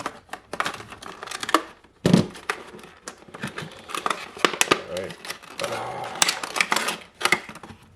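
A Buck 110 folding hunter knife cuts and saws into plastic packaging, giving close, rapid crinkling, scraping and snapping sounds. A person talks over the cutting.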